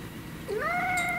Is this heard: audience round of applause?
no